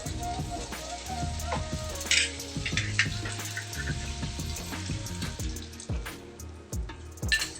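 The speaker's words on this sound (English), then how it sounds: "So I'll add coconut milk" Coconut milk splashes and bubbles into a pot of chickpea curry with a wet, trickling sound, accompanied by light clinks and a soft sizzling hiss throughout.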